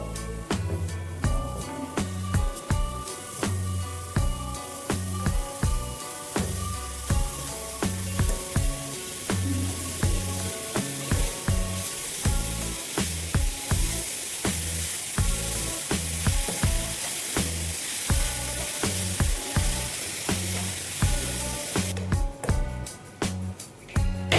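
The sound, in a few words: frying grated carrot with sugar for carrot halwa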